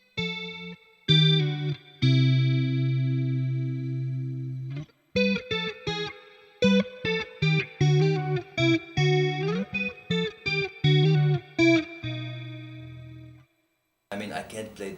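Clean electric guitar notes and chords of a song with a shimmering chorus effect and spacious plate reverb, no delay, played in phrases with short pauses, no voices.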